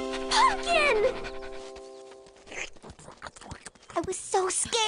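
A dog pants in quick rhythmic breaths up close in a movie scene, with excited voices talking over and around it.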